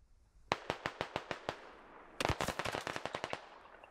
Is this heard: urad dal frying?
no